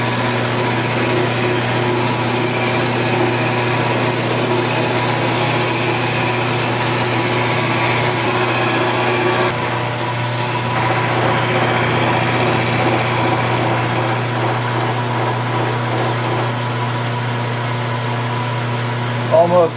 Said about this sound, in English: I've got the milling cutter all set up. I'm going to touch down and take a light cut on it.